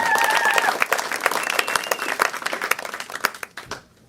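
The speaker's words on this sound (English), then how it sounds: "Round of applause for Benny Moore." A crowd applauds with dense clapping, a few whistles early on, then the clapping thins and fades out near the end.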